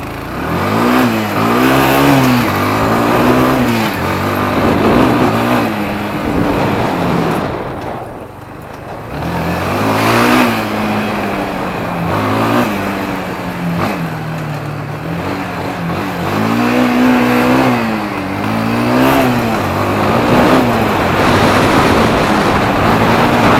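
Kawasaki Bayou 250 quad bike revving hard through repeated full-throttle accelerations, its engine pitch climbing in several loud, close rising sweeps separated by brief gear-change dips.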